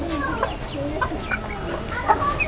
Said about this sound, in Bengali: মাশাআল্লাহ এটা পুরো দেশি একটা মুরগি